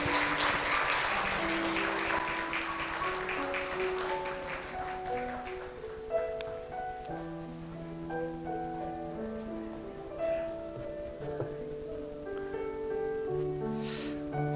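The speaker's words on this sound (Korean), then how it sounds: "우리 다시 한번 박수로" A Korean church congregation in Chile applauds during a Sunday morning service, a burst of clapping that is strongest at the start and fades over a few seconds, followed by a quieter stretch with sustained tones.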